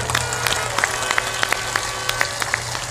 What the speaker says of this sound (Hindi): सब लोग ताली बजाकर उनका सम्मान करें